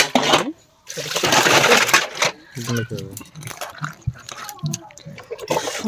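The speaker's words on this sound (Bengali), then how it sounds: "এই পুঁটি মাছগুলোকে আগে ধুয়ে নেবো" Small puti fish being washed by hand in water, with splashing, sloshing and swishing bursts close by, interrupted by short pauses; a voice talks over parts of it.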